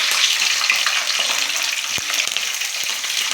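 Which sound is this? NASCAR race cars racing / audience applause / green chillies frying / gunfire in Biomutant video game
green chillies frying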